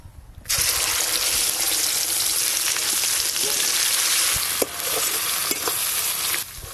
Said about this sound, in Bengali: ফোড়ন হয়ে গেছে, ভেজে বেটে রাখা মশলা পুরোটাই দিয়ে দেব।